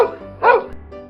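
A dog in a Hindi street scene lets out a short, loud bark burst in the middle, between quieter stretches of a voice.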